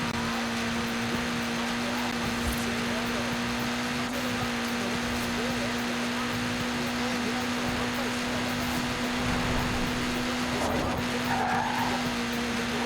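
Mini Cooper S in the racing game Forza Horizon 4, its engine holding a steady drone while tires skid and squeal through several slides, with a spoken voice over the car.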